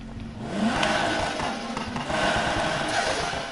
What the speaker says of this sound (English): The engine sound on this game is so much perfect, unreal, with the turbo sound